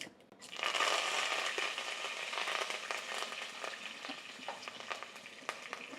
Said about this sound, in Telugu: ఇప్పుడు మనం దీంట్లోకి కరివేపాకు వేస్తున్నా